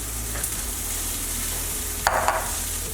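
Burgers fry on a griddle with a steady, close sizzle throughout, broken by a couple of brief scraping or stirring bursts near the end; no one talks.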